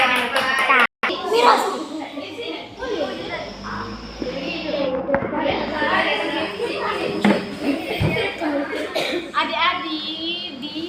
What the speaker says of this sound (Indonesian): tepuk tangan buat mereka dulu